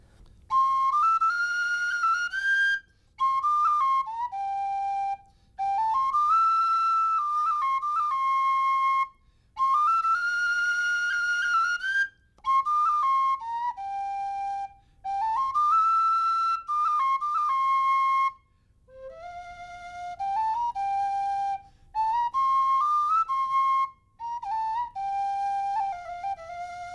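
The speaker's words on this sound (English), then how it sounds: "that is the Old Clark's whistle, which, as you can see, has got a really warm, breathy kind of a sound" Old Clark's tin whistle playing an Irish melody with a warm, breathy tone, phrases of clear sustained and ornamented notes separated by short breath pauses, solo and close.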